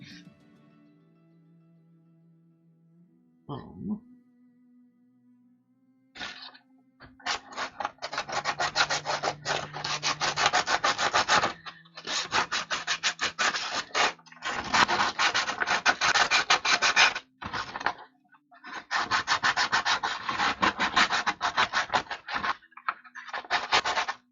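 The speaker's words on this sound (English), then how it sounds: "always sand with the grain" Wooden penguin cutouts are hand-sanded with the grain, producing close, gritty rasping strokes in long rhythmic bursts separated by short pauses, with no talking.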